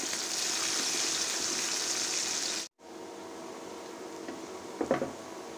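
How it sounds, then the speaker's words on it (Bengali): Hilsa fish shallow-frying in a pan: a steady hiss of hot-oil sizzle, moderately loud and close, cuts out abruptly midway, then resumes softer with a few faint clatters near the end. "ইলিশ মাছ দিয়ে সবজি দিয়ে রান্না করব, তার জন্য একটু হালকা করে ভেজে নিচ্ছি"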